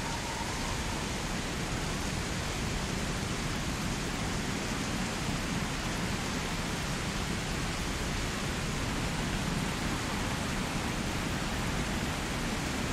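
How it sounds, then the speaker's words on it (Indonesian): Heavy rain with strong wind in a horror cartoon, a dense, unbroken hiss that holds at a constant level throughout, with no voices. "Angin bertiup kencang, membuat air hujan nyiprat membasahi badan Raka."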